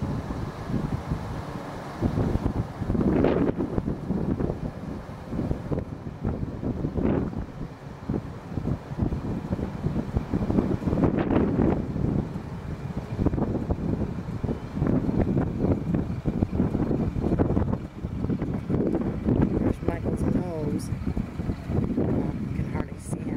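Gusty wind buffets the microphone outdoors near a house in Southern California, a loud, rumbling roar, with muffled speech mixed in throughout.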